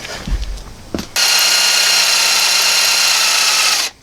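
A power drill with a 1/4 inch bit bores into a broken exhaust manifold bolt on a 1995 Ford F250, running as one loud, steady whine for about three seconds after a few brief clicks and knocks.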